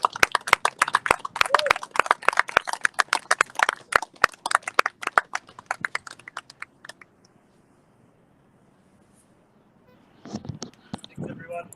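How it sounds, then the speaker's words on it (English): Audience applause at a charity home-run tour event in Columbus, Ohio: a burst of sharp, close claps that thins out and stops after about seven seconds, followed by quiet and then brief talking. "if we can give the Shiftons one more round of applause"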